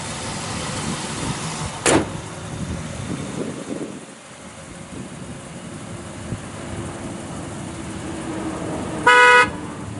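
A 1967 Chevrolet Chevelle SS 396 V8 idles steadily at a low rumble, with a sharp click early on and a brief horn toot near the end.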